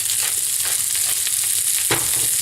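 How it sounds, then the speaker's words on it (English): Corn kernels sizzle loudly in hot oil in a pan, a close, constant frying hiss with a few stirring scrapes; no speech. "You should get that good sizzle."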